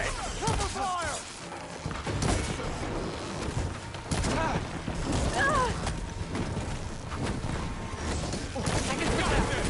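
Gunfire crackles in scattered bursts through a Horizon Forbidden West battle, mixed with thuds, shouting voices and other combat noise at moderate loudness.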